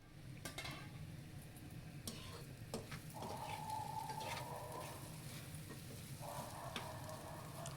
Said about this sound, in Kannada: ಫೈನಲಿ ಈರುಳ್ಳಿ ಹಸಿ ಖಾರ ಎಲ್ಲ ಚೆನ್ನಾಗಿ ಫ್ರೈ ಆಗಿದೆ.